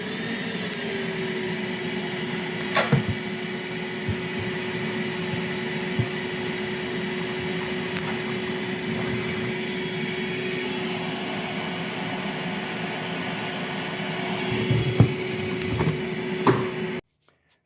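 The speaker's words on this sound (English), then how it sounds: "I'm going to show you how it sucks up the bees on low volume" A bee vacuum on low setting sucking up bees drones steadily at close range with a constant whine, broken by a few faint clicks and rattles, then cuts off abruptly.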